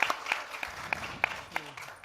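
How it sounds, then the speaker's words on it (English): A conference audience gives scattered, faint clapping for a speaker walking onstage, with a handful of distinct claps spread over two seconds in a quiet hall. "Please give a round of applause for Koji."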